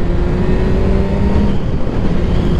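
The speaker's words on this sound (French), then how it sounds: "Là par exemple j'entends bien mon moteur là." Motorcycle engine heard from the rider's position through moto earplugs, a loud steady low rumble mixed with wind noise, continuous with no talk.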